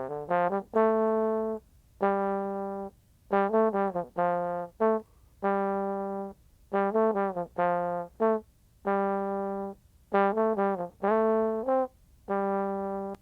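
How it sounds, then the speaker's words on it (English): Software-generated trombone line, pitched an octave low, played solo as a rhythmic series of sustained and short brassy notes with brief gaps, clear and close with no other instruments. "let's hear just the trombone"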